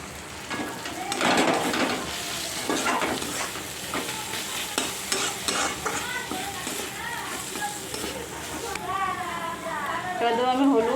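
A pan of frying atta-flour pasta with tomato hisses and sizzles as carrots go in, with steady stirring scrapes while a voice keeps talking.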